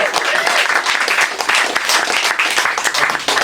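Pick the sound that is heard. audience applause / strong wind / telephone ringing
audience applause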